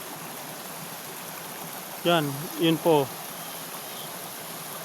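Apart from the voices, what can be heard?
stream flowing with small waterfall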